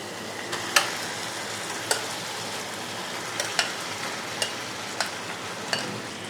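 Chicken pieces sizzle in a pan, a soft steady frying hiss punctuated by regular light clicks and scrapes as they are stirred, close and without voices.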